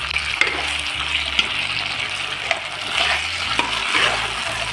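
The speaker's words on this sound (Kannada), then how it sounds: "ನಾನು ಇವಾಗ ಇದಕ್ಕೆ ಫ್ರೈ ಮಾಡ್ಕೊಂಡಿರೋ ಪನ್ನೀರ್ನ ಆ್ಯಡ್ ಮಾಡ್ಕೊಳ್ತಾ ಇದ್ದೀನಿ. ಆ್ಯಡ್ ಮಾಡ್ಕೊಂಡಿರೋದಕ್ಕೆ ಕ್ಲೀನಾಗಿ ಮಿಕ್ಸ್ ಮಾಡ್ಕೊಳ್ಳಿ" Fried paneer tossed into a sauce for paneer Manchurian, a loud, steady hiss of frying in the pan with soft stirring scrapes and a couple of light taps over it.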